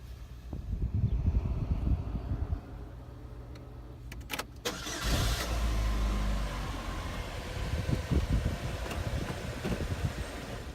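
A car engine cranks and catches after some rumbling background noise, then settles into a steady, moderately loud idle heard from nearby, with no talking.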